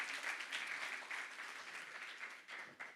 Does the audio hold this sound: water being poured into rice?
no